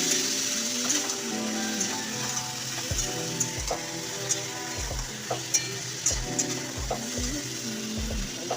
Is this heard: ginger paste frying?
yes